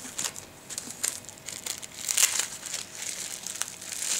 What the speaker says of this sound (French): Alors, je déballe.